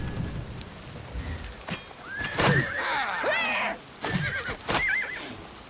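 Horse neighs and whinnies in Oblivion Remastered, several loud, wavering calls with clip-clop hooves and falling rain in the background.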